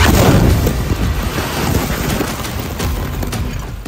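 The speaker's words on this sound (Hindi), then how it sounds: "इजरायली मिसाइल का धमाका कितना जबरदस्त है।" Israeli missile explosion in Gaza's Nuseirat, a loud, close roaring blast whose heavy rumble and crackling debris wash fill the whole moment without any voices.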